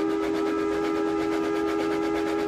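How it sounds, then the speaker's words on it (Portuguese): Steam train whistle sounding as a sound effect in an audiobook of a story about a lit-up train, a steady sustained tone held throughout, with no talk over it. "E o apito de um terceiro trem iluminado soou."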